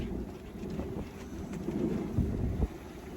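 Strong katabatic wind gusting around 29 knots buffets a sailboat sailing close-hauled off the Isle of Man, a steady low roar of wind noise with heavier surges near the end.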